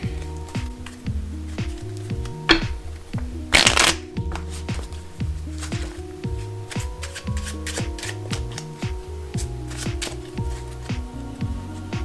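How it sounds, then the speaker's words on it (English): A deck of playing cards handled during a magic trick, with crisp shuffling riffles and soft rubbing cards heard close up and continuously, plus one sharp flurry midway, under quiet talking. "Now, I'm going to bury your card in the middle of the deck."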